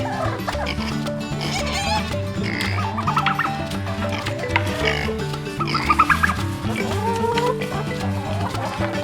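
Chickens on a homestead cluck and squawk loudly at morning feeding time, with a pig grunting among them in a busy, overlapping farmyard chorus.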